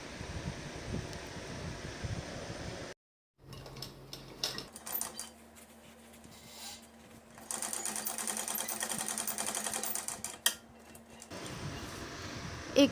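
A sewing machine stitches along the seam of a Madhubala-style dress in bursts of rapid, rattling stitching, with short pauses where the fabric is repositioned.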